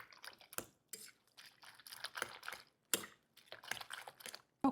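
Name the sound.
mixing salmon pieces to break them apart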